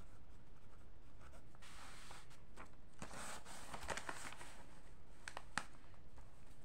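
Chalk or marker scratching and tapping on a board while numbers are written out in ascending order in a high school maths lesson, a steady run of short strokes and taps at a faint, even level.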